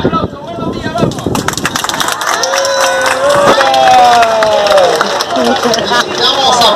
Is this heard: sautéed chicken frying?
no